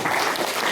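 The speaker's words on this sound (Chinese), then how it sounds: "我们掌声鼓励" Audience applause at an Amis age-grade seminar, a brief steady wash of clapping filling the hall at moderate loudness with no voices over it.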